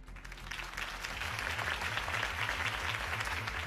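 A video game crowd claps and cheers steadily throughout, a dense wash of applause with a low rhythmic pulse underneath.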